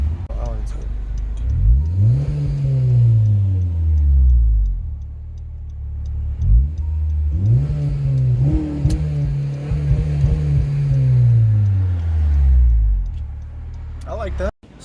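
A 2014 Honda Civic Si with an aftermarket Invidia Q300 exhaust revs up through gears twice, throaty, rising and falling in pitch, heard close and fairly loud while driving with windows down.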